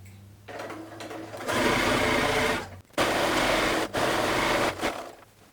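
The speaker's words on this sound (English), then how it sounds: "I just keep the edge of my presser foot lined up with the edge of my fabric" A sewing machine stitches fabric for a reversible shoulder bag, running in steady loud whirring bursts with two brief stops between runs, close up and alone without talk.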